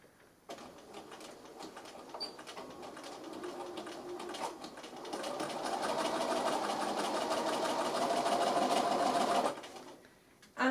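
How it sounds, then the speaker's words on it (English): A sewing machine runs a quarter-inch seam through two layers of fabric for a delicates bag, whirring steadily and close by for about nine seconds, speeding up and growing louder halfway through before it stops. "Alright, my fabric's lined up in the machine"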